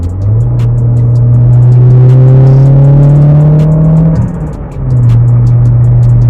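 A mid-engine sports car with a swapped 3S-GTE turbo four-cylinder revs up steadily and loudly, pitch climbing as it accelerates, then briefly drops off before picking up again, close and strong.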